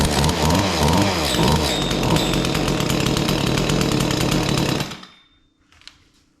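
An Echo CS-271T chainsaw engine runs loud and close with a rough, buzzing idle, then cuts out abruptly, leaving near silence and a faint click.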